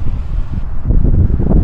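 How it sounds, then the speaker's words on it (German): Strong wind buffets the microphone at a chilly beach, a loud rumbling low-pitched roar with gusty fluctuations and no talking. "Und es windet dezent und es ist echt frisch hier."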